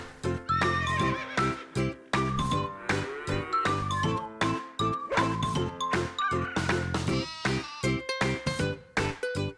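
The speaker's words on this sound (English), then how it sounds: "we can hear sounds of farm animals today" Farm animal sounds led by a horse neighing and whinnying, with clip-clop hooves, loud and dense with repeated sharp bursts throughout, no talking.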